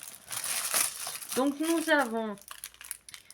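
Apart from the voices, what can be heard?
plastic bag crinkling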